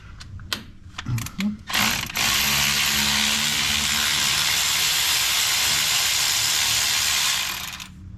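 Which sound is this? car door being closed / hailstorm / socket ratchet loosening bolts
socket ratchet loosening bolts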